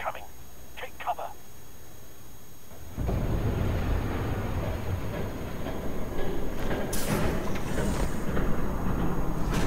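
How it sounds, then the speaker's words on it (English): In a Batman video game, a train passes with a loud, steady rumble that rises abruptly after a quieter opening, along with brief beeping tones and a faint voice. "There's a train coming. Take cover."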